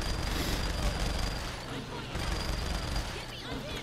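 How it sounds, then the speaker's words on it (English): Minigun fire in the video game Saints Row The Third, a dense, continuous rattling roar that runs loud and unbroken through the whole moment. "Minigun should one shot people."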